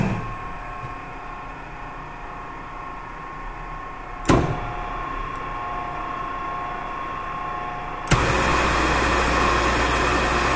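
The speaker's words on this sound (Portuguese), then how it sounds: "Assim que eu girar para o automático, vai entrar o primeiro motor, motor 1" Three electric motors starting in cascade from a control panel: a steady machine hum and whine, then a sharp switching thump at about four seconds and another at eight, each followed by a louder, fuller motor drone.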